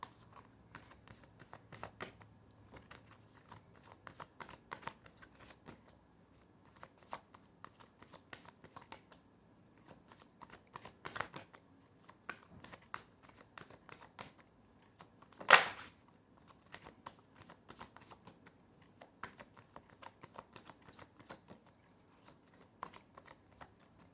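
Tarot cards shuffled by hand during a Hindi love tarot reading, giving soft, steady riffling and flicking through the whole stretch with one sharper burst near the middle, close and quiet, with no talk over it.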